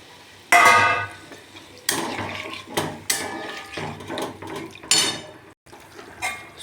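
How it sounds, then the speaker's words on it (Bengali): Water is splashed into a pan of spiced kohlrabi curry in loud bursts, with metal pot clatter and scraping between the pours. "এবার আমি দিয়ে দেবো জল।"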